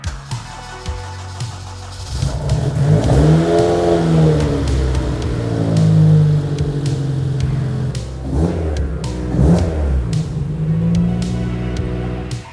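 An engine fitted with individual throttle bodies revs hard on a dyno, its loud rising and falling pitch sweeping up toward 10,000 RPM in several sustained pulls, each followed by a brief drop, with no talking.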